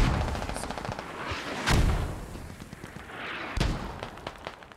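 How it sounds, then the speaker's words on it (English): Mortar impacts and rifle fire echo across a Squad video game battlefield, with sharp, loud blasts at intervals over a rattling spread of gunshots, some near and some distant. "Mortar's landing close."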